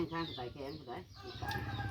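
Domestic chickens cluck close by in a short run of rhythmic, throaty calls, with a voice speaking alongside.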